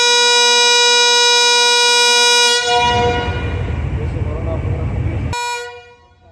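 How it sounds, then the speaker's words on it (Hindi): The departure horn of the Karachi Express sounds at a Pakistan Railways station, a long, loud, steady blast that gives way to rumbling train and platform noise before a short final toot. "दूसरा डिपार्चर हॉर्न भी हो चुका है"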